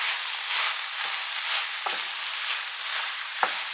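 Finely chopped celery fries in a pot with a steady close sizzle, broken by a few scraping stirs of a utensil against the pot.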